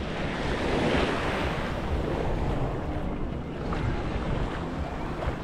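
Ocean waves surging continuously onto a beach at Playa de la 4 Norte, a steady broadband wash of surf with wind buffeting the microphone, loud and close, no voices.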